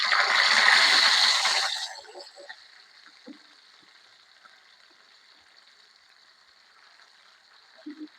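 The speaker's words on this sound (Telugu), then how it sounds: "ఇప్పుడు వేయించుకున్న ఫిష్‌ని కదిలించకుండా అలాగే ఉంచాలండి." Fish frying in a pan, a loud dense sizzle for the first two seconds that drops to a faint steady hiss with a few small pops and crackles.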